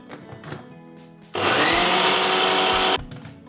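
A mixer grinder roars into a loud, steady whirring grind of a tamarind chutney spice mix for about a second and a half, then cuts off, with quieter handling sounds and murmuring before and after.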